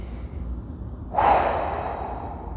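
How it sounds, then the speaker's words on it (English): Deep breathing during a pelvic floor relaxation exercise: quiet at first, then a single loud, long breathy exhale or gasp that stays up close until the end, with no talk. "it's very beneficial if you do the deep breathing in this position as well"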